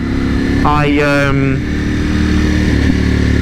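A 2021 Ducati Panigale V4S sportbike on the road, its engine droning loudly and continuously with a brief rising rev in the middle, under heavy wind rumble.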